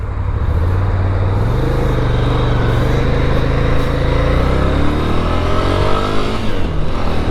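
A 2023 Ducati Scrambler Icon Dark rides through rush hour traffic, its engine droning loud and close with rising revs under heavy wind rush, the steady roadway noise continuous throughout.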